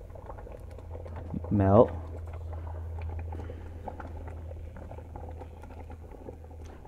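Grits boiling rapidly in a pot, a low steady bubbling hum with faint popping, briefly under a short spoken word.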